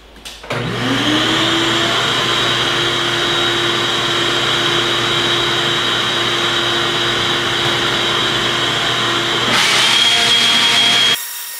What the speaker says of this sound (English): while I just blew off that, the vacuum took up most of the water